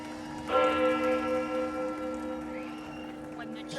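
A church bell sounds in a stage play of The Legend of Sleepy Hollow: one resonant strike rings out and hums away slowly, with a faint voice near the end.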